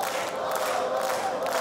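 A wrestling crowd at the wXw World Tag Team Festival 2024 keeps up a continuous, loud roar of cheering in a packed hall, steady from start to finish.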